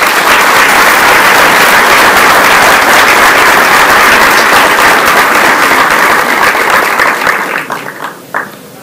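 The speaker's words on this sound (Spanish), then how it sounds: "les pido un aplauso por Paula Samara." A large crowd at a student scholarship award ceremony in Magdalena, Colombia, applauds loudly and continuously for several seconds before the clapping thins out and fades with a few last claps.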